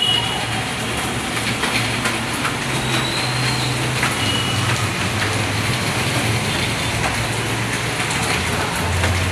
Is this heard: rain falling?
yes